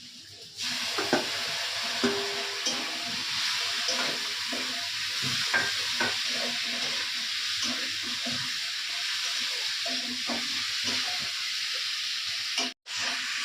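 A steady sizzle of coriander, cumin, ginger, garlic and green chilli frying in a pan runs throughout, with faint scraping and stirring sounds.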